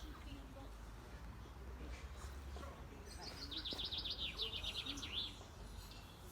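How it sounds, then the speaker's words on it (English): Birds tweet outdoors in an idyllic garden dining spot, a clear, rapid run of high chirps in the second half over quiet background ambience. "You can hear the birds tweeting."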